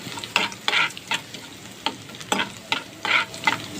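Chopped ginger and garlic fry in a pan, a close sizzle broken by repeated bursts of stirring and scraping in an uneven rhythm, with no voices.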